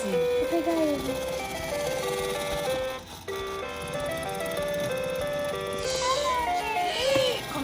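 Tinny electronic jingle from a toy claw machine loaded with fidget toys plays up close and loud, its melody running faster, while children talk excitedly over it.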